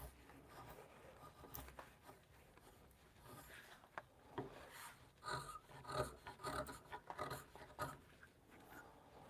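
Hand chisel carving a spiral ribbon rail in a woodshop, quiet scraping and paring strokes in uneven bursts, close and soft, with small taps and rubs between cuts.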